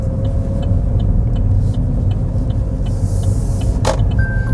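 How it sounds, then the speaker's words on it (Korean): A truck pulls away in second gear during a road driving test, its engine note steady and loud as it accelerates, with a whirring mechanical sound and a brief click near the end. "2단 넣고 이렇게 출발합니다."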